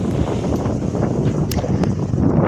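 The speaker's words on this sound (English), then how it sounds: "Oh God, it's windy." Gusty wind buffets the microphone in a continuous rumbling rush, with a couple of brief sharp knocks partway through.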